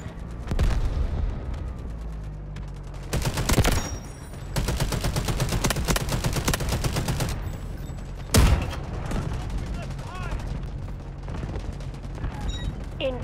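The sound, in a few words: artillery barrage and gunfire in video game Delta Force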